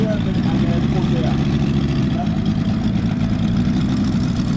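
A motor aircraft engine at an air show drones steadily and loudly throughout, a constant mid-to-low hum with a voice talking over it.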